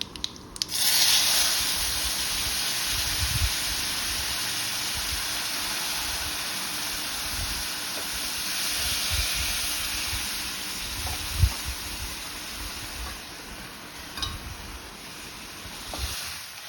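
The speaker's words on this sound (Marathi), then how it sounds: "साराला आपल्या मस्त फोडणी बसली आहे" A hot tempering of spices and oil for raw mango rasam sizzles into the pot, a sharp burst followed by a steady frying hiss, close and continuous, with a few light clinks.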